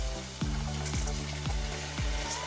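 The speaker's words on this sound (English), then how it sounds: "We'll kind of toast saute our rice for a couple of minutes." Drained, soaked basmati rice toasting and sautéing with onions in a hot pan, a steady close sizzle with four regular stirring scrapes roughly every half second, no talk.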